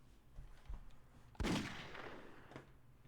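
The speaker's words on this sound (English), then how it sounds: "Ready for a gunshot sound?" A single sharp gunshot sound effect bangs once with a short decaying tail, standing out from otherwise quiet background murmur.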